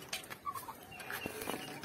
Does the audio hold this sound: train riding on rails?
no